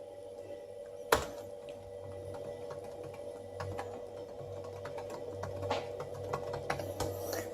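Computer keyboard typing sent to an iPad, soft irregular key clicks with one sharper tap early on, quiet and close against a faint steady hum.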